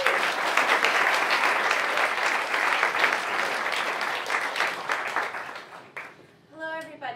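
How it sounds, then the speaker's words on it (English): Sustained applause from an audience at a choir-themed talk event, dense clapping filling most of the clip before fading out as a voice begins speaking at the end. "So please respectfully give a huge round of applause at this time for Kaylee Ramos."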